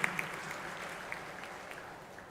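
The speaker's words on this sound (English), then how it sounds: "So please give a big round of applause to Swapnil" Audience applauds at an inauguration ceremony, sustained steady clapping from a hall full of people, a few sharper individual claps standing out near the start, even in level throughout.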